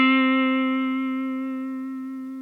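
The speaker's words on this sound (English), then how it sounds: "When I say narrow vibrato, what I mean is that we're deviating from that pitch just a little bit" A single sustained electric guitar note with a narrow, slow vibrato that wavers only slightly off pitch and back, ringing clearly and decaying gently with no talking.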